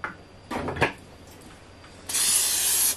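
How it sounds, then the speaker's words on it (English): Oil spraying from a can onto sourdough sandwich bread dough made with fresh milled flour, a steady hiss lasting close to a second after brief handling noises. "I'm gonna spray this with some oil and let this rise"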